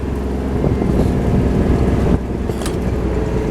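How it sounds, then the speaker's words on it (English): Loud, blustery wind buffets the microphone with a constant low roar that briefly eases near the end. "Getting windy here, you might not be able to hear me."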